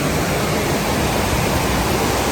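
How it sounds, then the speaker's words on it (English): Cascade Falls on Stony Creek pours over rocks in a steady, loud, broadband rush of water that fills the whole stretch with no voices. "Really like the way these cascades look flowing over those rocks there."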